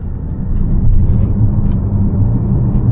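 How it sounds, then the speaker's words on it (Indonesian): A steady low electric motor hum and road rumble swell slightly as a Mazda CX-80 PHEV picks up speed, close and fairly loud, with no talking. "Kalau di gas, motor listrik juga ada suara ini."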